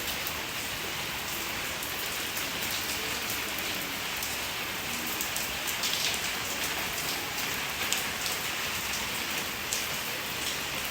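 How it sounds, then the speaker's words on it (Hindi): Heavy rain pours steadily onto surfaces outside a home in India, a dense, even hiss of countless drops that holds at constant loudness, close and continuous, with no voices over it. "ये देखिए कितनी ज़ोर से बारिश होने लगी है।"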